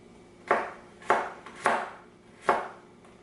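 A kitchen knife chops garlic for tomato bruschetta in four crisp, sharp strikes, unevenly spaced and fairly close, with quiet pauses between them and no voices.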